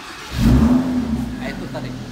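A Lamborghini Huracan Spyder engine fires up and revs, a rising mid-low roar that swells near the start and then settles into a steady throaty rumble, up close and loud.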